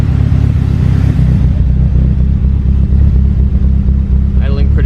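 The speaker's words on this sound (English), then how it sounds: "Idling pretty good." A Mitsubishi DSM car engine idles just after starting, a steady, loud, low rumble that is close and continuous throughout.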